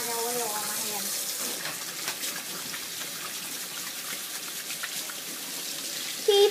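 Water runs steadily from a tap while hands are washed under it, a constant close splashing rush with faint scattered drips and a louder spatter at the very end.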